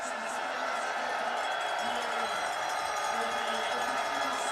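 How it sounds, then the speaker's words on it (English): A French biathlon crowd cheers as a women's sprint racer crosses the finish line in Annecy, a steady wash of distant cheering and cowbells with a commentator talking over it. "the French crowd making sure she's feeling all the love and support as she crosses the line"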